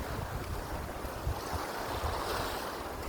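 Continuous wash of sea surf rolling onto the shore in Ilocos Norte, Philippines, with a steady low rumble and broadband hiss, wind buffeting the microphone throughout, no voices.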